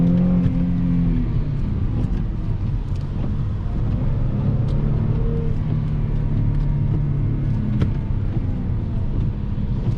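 Mercedes-Benz C350 of the W204 generation fitted with an X-pipe exhaust, heard from inside as a steady low engine drone under acceleration, with wind and road rumble filling the cabin throughout.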